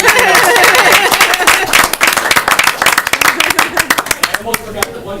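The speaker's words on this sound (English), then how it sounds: "Let's give them a big round of applause." Audience applause at a town Board of Selectmen meeting in a former classroom, dense clapping at first that thins into scattered individual claps toward the end, close and fairly loud.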